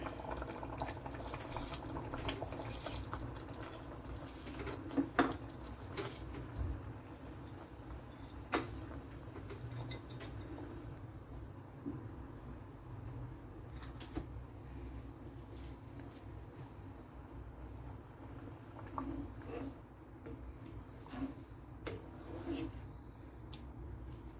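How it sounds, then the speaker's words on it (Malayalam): Soaked rice boiling in a pot of water for Kerala-style chicken pulao, a steady, moderately loud bubbling and simmer that runs continuously at close range, with no one speaking. "ഇനി നമ്മുടെ റൈസ് വേകുന്നതിനായിട്ട് ഒരു 8 മുതൽ 10 മിനിറ്റ് നേരം നമുക്ക് ആവശ്യമുണ്ട്"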